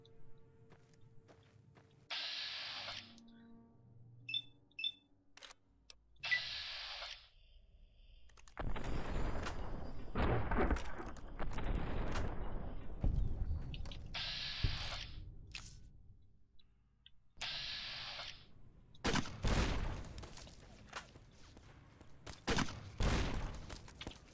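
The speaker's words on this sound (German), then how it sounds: "Wir jagen Pulverbanditen mit Granatwerfern." Grenade launcher fire in Fallout New Vegas, with bursts of booming blasts and explosions spread across the scene amid footsteps and clicking gameplay noises, irregular and moderately loud, with no talking.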